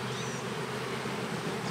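A wasp buzzes close by at a beehive while a bee nucleus colony is being installed, a continuous steady drone mixed with the hum of many bees.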